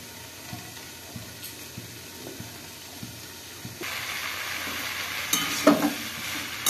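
Onions fry in a pan for poppy-seed onion posto, quiet scraping taps at first, then a louder steady sizzle after a lid is lifted, with stirring clatter, no voices.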